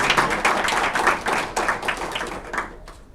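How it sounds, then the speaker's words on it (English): Audience applause at a general assembly meeting, a dense run of many hands clapping at close range that holds steady and thins slightly toward the end, with no voices over it. "Give him a round of applause for all the hard work."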